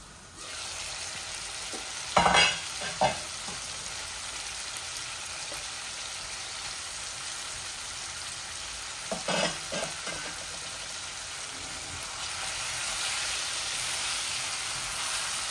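Chunks of potato and fish fry in an oil-filled pan with a steady, quiet sizzle, broken by a couple of clattering stirs around the early seconds and again near the middle, the hiss swelling slightly toward the end.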